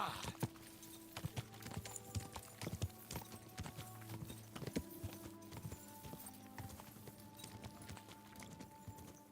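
A horse's hooves clip-clop steadily at a walking gait while riding in the game Kingdom Come: Deliverance II, faint and even, with light background ambience and no talking.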